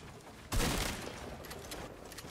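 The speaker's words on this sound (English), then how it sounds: "Getting shot from somewhere else" Gunfire in the Fortnite video game, a sudden loud burst of shots that sets off a dense, sustained clatter lasting a couple of seconds.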